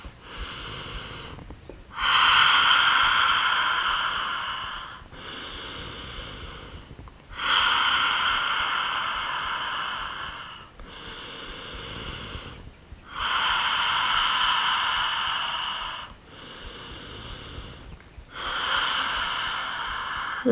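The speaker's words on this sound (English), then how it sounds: "we're just gonna take four rounds of breath here, sending your breath to your hips" Slow, deep breathing during a yoga hip opener pose, four long audible inhale and exhale cycles separated by quiet pauses, close and clear with no talk.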